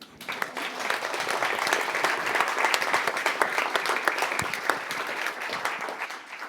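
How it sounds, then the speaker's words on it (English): Applause for a speaker at a meeting hall with a public gallery: a sustained wash of many hands clapping, moderately loud and steady, with no talking over it. "Can we get another round of applause for Adrian?"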